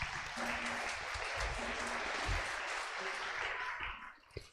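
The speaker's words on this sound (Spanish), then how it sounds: "Fuertes palmas, hermanos." A church congregation claps steadily and loudly together, a dense continuous wash of applause that fades out near the end.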